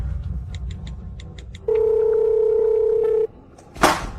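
A telephone call's steady single dial tone holds for about a second and a half, preceded by faint repeated beeps over low background rumble and followed by a short burst of noise.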